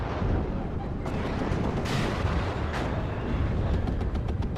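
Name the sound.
MLRS rocket artillery firing in the video game WARNO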